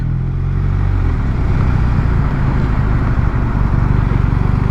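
A BMW R1250 RT boxer motorcycle engine runs loud and close, its throbbing, low rumble revving up and holding strongly throughout.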